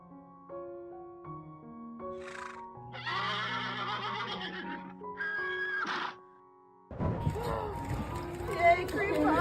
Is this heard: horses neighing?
yes